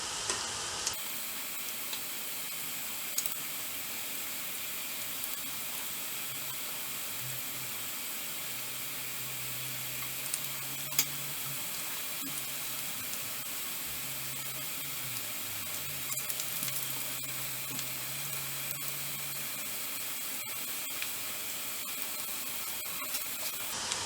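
Methu vadai frying in hot oil on a stove, a steady close hiss and sizzle that fills the whole stretch with faint crackles and occasional small clicks, with no talk over it.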